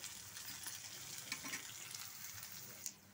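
Asafoetida sizzles in tempering oil for dabbakaya pulihora, a soft, steady frying hiss with scattered crackles and a couple of brief stirring scrapes before it quiets at the end.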